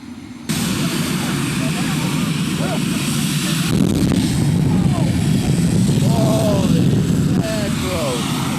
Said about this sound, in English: They're about to start up the jet car.